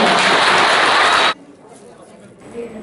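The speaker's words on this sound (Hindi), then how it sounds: "एक बार आप सबसे अनुरोध है कि इनके लिए जोरदार तालियां" Loud, dense applause from an audience at a formal ceremony greets three newly nominated persons, a steady roar of clapping for over a second before cutting off abruptly into quiet room noise.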